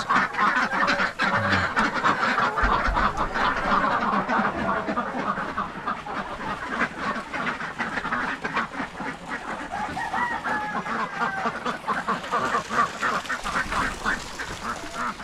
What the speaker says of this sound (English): Good morning, my ducks and the chickens.